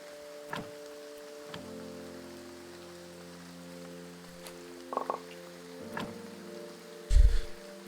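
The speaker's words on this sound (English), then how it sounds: "Which now it's raining." Steady rain falls in the video game Graveyard Keeper, a soft continuous patter under low ambient game tones, with a few brief louder taps and thumps scattered across it.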